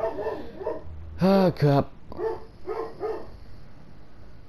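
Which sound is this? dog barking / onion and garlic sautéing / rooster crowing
dog barking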